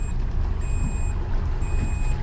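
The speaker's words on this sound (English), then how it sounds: "That's the anchor alarm." Boat anchor alarm sounding as repeated electronic beeps in long steady tones, heard over the low rumble and hum of the boat at sea.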